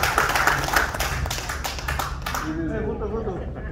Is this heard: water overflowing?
no